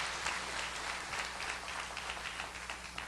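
Congregation applauding in a church, a steady wash of many hands clapping throughout, distant and fairly faint, with no voices over it.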